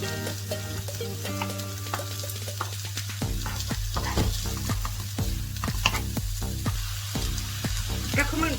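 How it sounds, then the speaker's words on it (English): Onions frying in a pan for cheesy potato balls, with a steady sizzle running throughout and a series of repeated scraping stirs that begin partway through and continue at a regular rhythm. "I'm going to add in the onions. Stir it in for another couple of minutes."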